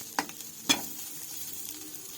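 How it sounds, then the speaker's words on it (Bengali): Cauliflower paratha filling stir-fries in a pan with a faint sizzle, marked by a couple of sharp spatula scrapes and clinks against the pan. "ভালোভাবে ভাজা 4 মিনিটের জন্য এটি নাড়াচাড়া করে নিলে এটি ভালোভাবে ভাজা হয়ে যাবে।"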